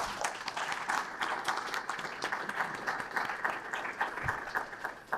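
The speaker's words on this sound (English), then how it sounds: "That's cause for applause." Audience applause at a community talk in York County, Pennsylvania: a steady, dense patter of many hands clapping for several seconds at moderate volume, with no speech over it.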